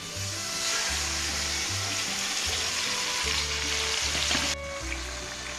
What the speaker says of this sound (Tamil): ஸோ ஆனியன் நல்லா ஃப்ரை ஆகிடுச்சு.